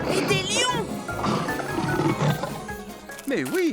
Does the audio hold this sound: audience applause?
no